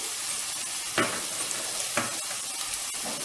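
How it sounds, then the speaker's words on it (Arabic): Sautéed colored peppers, canned mushrooms, salt and black pepper stirred in a hot pan, a continuous loud sizzle broken by two distinct utensil scrapes. "غادي نحاول نخلط"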